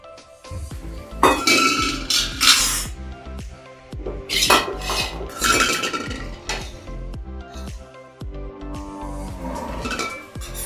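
A steel spoon clinks and clatters against two small bowls in a home kitchen, several bright ringing bursts of knocking metal and dishes spaced a couple of seconds apart, close and loud, with no talking.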